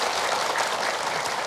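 Studio audience at an Indonesian television religious talk show gives a short burst of steady, dense applause, close and moderately loud.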